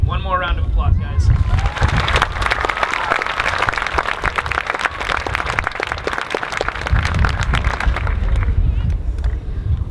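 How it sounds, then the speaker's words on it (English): A graduation crowd for the class of 2019 applauds loudly and steadily, dense clapping with cheers and crowd babble filling the whole stretch. "One more round of applause, guys."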